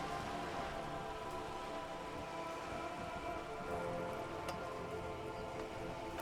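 Steady rain pours down in the video game Disco Elysium, a dense, even hiss of drops on hard surfaces with occasional sharper drips, no voices over it.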